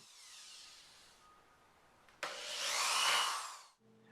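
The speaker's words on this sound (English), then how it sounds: "I then pre-drilled the holes for the screws that would hold the top plates so that it wouldn't crack the oak." A power drill bores pilot holes into oak for table leg plates, a faint whirring, then a sharp start into a louder, rising whine that cuts off abruptly.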